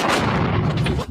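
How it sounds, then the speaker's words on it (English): Explosions strike an oil tanker under attack at night in the port of Basra, Iraq. One loud, dense, rumbling blast lasts about a second and then cuts off sharply. "Explosions and flames lighting up the night sky"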